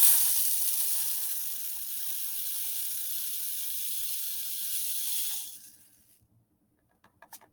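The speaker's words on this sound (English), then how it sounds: "I'm going to put in my funnel" Dry rice grains pour steadily through a funnel into a tall water bottle, a continuous bright hissing rush lasting about five seconds before trailing off, followed by a few faint clicks.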